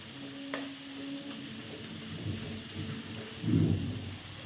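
Beans and a few cashews fry in a pan with carrot for paneer fried rice, a steady close sizzle and stir with scraping bursts and a louder hiss swelling near the end, no voices.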